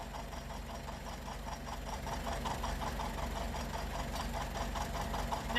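A John Deere two-cylinder tractor running after repairs on a cold winter day, its steady, even chuffing pulse loud and close, holding a constant rhythm throughout.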